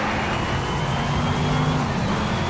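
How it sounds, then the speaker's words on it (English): A deep, steady engine roar from a Dodge Challenger in Need for Speed: Shift at Silverstone National, holding a constant rumbling tone throughout. "I will say this car just sounds great."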